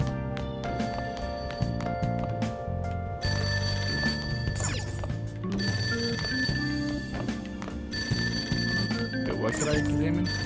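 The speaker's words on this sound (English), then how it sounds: "The ringing sound isn't coming from my cell phone." A telephone rings downstairs in a house in the video game Persona 5, a repeating bell heard under steady game background music.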